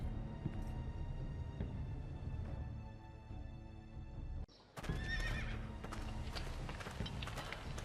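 Horse neighs and whinnies with clip-clopping hooves from a Game of Thrones video game, loud and close, broken by a brief drop near the middle before the whinnying returns.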